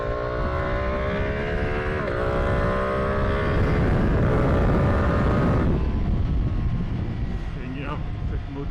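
Ducati Panigale V2 twin-cylinder sport bike engine revving hard, a loud, steady high-pitched drone that climbs in pitch before easing off, with someone talking over it throughout.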